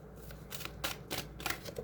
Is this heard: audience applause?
no